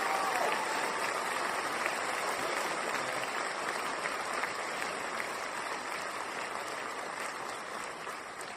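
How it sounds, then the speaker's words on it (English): Applause from an audience during a live stream, a steady wash of clapping that holds at a moderate level throughout, with a little crowd noise beneath it and no clear voices on top. "Clap it up for that."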